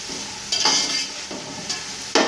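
Onions browning in a pan for Punjabi chicken pulao: a soft continuous sizzle broken by three scraping stirs, close and without talk.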